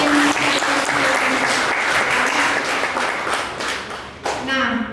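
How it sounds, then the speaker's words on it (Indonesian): A school audience claps for a visiting team, steady broadband applause running throughout with a faint voice underneath and a brief dip near the end before the clapping swells again. "Tepuk tangan untuk tim."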